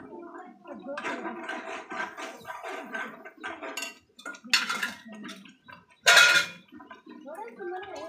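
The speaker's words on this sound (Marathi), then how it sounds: "ते ताट आपण मसाला काढले ना, ते ताटाचं धुवायचं असं आणि तो पाणी टाकायचं" Water splashes and sloshes as a metal plate that held masala is rinsed and the water poured into a cooking pot, with bright bursts of pouring and clinks of metal, while someone talks in between.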